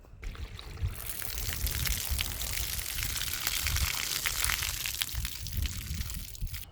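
Water gushes steadily from a hose into a heated bird bath, a loud, continuous broadband rush and splash that begins about a second in and keeps going without a break.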